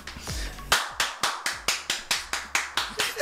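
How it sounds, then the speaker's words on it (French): Invited audience at a foundation presentation for reading and general culture clapping in a steady, rhythmic beat of about a dozen sharp claps, close and fairly loud, with a brief low sound before the clapping begins. "c'est en fait les populations que nous avons invitées à la présentation de la Fondation Gina Tengue qui applaudissent"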